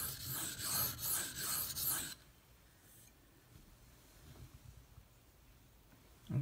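A Bark River Bravo EDC knife is sharpened, with its edge reground to remove chips and reshape the geometry. Quick, rhythmic rasping strokes sound close and fairly loud for about two seconds, then stop, leaving near silence with faint handling noise.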